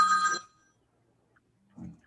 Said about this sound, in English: Telephone. Somebody's got to take a phone call.